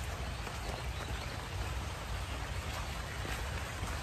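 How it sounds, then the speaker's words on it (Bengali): Steady rain falling outdoors on a stormy day, an even, continuous hiss of drops on surfaces, close and moderately loud, with no voices. "এই যে বৃষ্টির মধ্যে ভিজতে ভিজতে যাইতেছি"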